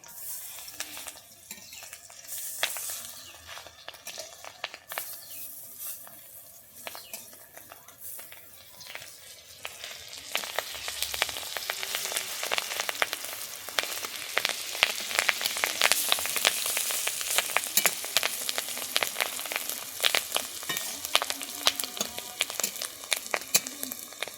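Fish roe frying in a pan, sizzling with rapid crackling and spatter, growing louder midway, with clinks of a utensil turning the roe.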